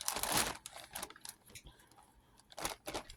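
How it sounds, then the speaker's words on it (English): Plastic bags holding fabric swatches crinkle and rustle as they are handled, with bursts of sharp crackling separated by quieter moments of small handling sounds, close to the listener and with no talk. "You'll have to excuse crinkle because I do have them in plastic bags."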